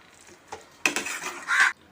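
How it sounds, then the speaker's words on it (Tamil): Boiled potatoes are stirred into idli masala in a bowl with a spoon, giving a couple of scraping, clinking strokes close by in a quiet kitchen. "நான் வேக வச்சு எடுத்ததை இதில் போட்டு கலர்றோம்"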